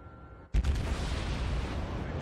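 A warship's main guns fire in a naval battle video game, a sudden loud boom followed by a long rumbling roar that fills the rest of the moment.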